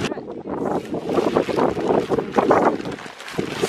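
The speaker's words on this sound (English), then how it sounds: "It's kind of windy" Gusty wind at a beach buffets the microphone in rough, rumbling surges, loud and close, with no speech.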